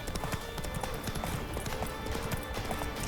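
Horse hooves clip-clopping in The Witcher 3, a steady run of soft, close hoofbeats over a dense, busy background, with no voices.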